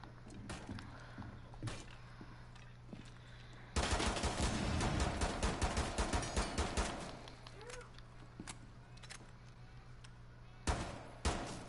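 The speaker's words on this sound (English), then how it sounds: "Are you listening to my gunshots?" Gunfire in the tactical shooter Rainbow Six Siege rattles out in a dense automatic burst lasting about three seconds. A few scattered single shots follow over a steady low in-game background hum.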